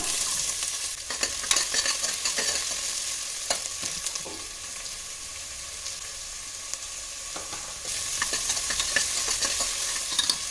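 Sliced onions frying with cinnamon, cloves, cardamom and bay leaf in a pan for mutton chops, producing a bright, steady sizzle with scattered scraping and stirring taps throughout.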